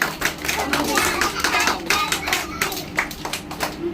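A group of children seated in a circle in a classroom clap their hands together in a steady, loud burst of many overlapping claps, sustained for several seconds with a few voices underneath.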